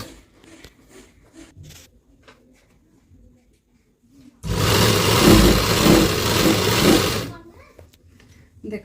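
An electric sewing machine runs in one loud, steady burst of about three seconds as it stitches the belt onto a salwar, with quieter hand movements and handling before it starts.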